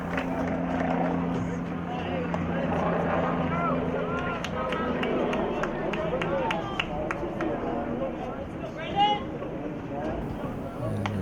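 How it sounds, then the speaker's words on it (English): A helicopter passes over a baseball field during an evening varsity high school game, a steady low drone that stays under near, continuous commentary and crowd chatter. "There seems to be a helicopter flying over the field right now."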